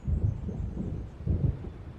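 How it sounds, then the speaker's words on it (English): Deep rolling thunder of an approaching storm by a lake in the game Alan Wake, two low rumbling swells about a second apart, loud and heavy with no talk. "It seems there's a storm coming."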